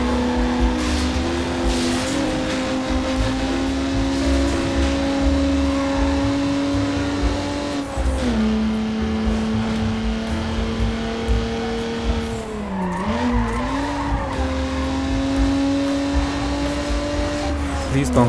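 Engine drone and tire squeal from a car in a racing video game run at its lowest setting on a GeForce4 MX 4000 card, a loud continuous tone that rises and dips as the car skids, with talk over it.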